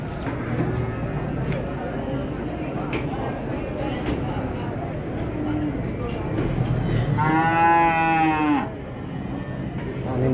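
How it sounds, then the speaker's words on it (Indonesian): A jumbo cow at a livestock market, about to be loaded onto a vehicle, lets out one loud, drawn-out moo near the end over steady crowd bustle, with people talking throughout. "Dan ini sapi yang akan dinaikkan ke mobil ya"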